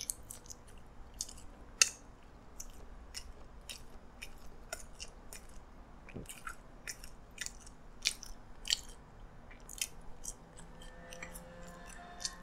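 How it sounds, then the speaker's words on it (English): Jalapeno cheesy fries being eaten close up, with a steady series of crisp bites and wet chewing crunches repeating at an irregular rhythm against a quiet background. "I'm gonna grab some of these jalapeno cheesy fries, which is a little spicy as well."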